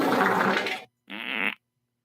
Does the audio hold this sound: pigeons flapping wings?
no